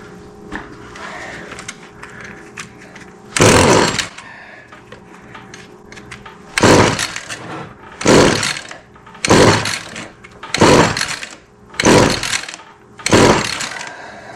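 A Stihl FS56 string trimmer is pull-started over and over: six loud, rough roaring bursts about a second long, each dying away into a quiet pause, and the two-stroke engine never settles into a steady idle.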